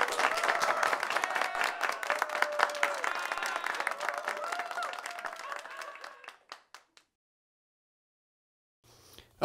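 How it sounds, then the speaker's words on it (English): Studio audience at a talk show breaking into loud, sustained applause and cheering, dense clapping that fades out after about six seconds into silence, with a voice faintly under the crowd. "Big round of applause for Brian and Jeremy joining us here on the show."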